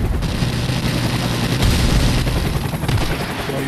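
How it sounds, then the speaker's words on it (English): Shooter video game firefight with flashbang grenades in use: dense, continuous roaring blasts and gunfire-like bursts, loud and close throughout, with no talk. "Let's use some of these flashbangs they gave us."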